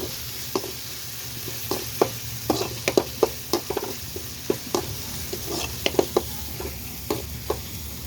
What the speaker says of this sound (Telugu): ఆనియన్ టమోటో పచ్చిమిర్చి కొత్తిమీర ఆయిల్ అన్నీ వేసుకొని వేయించుకుంటున్నాను బాగా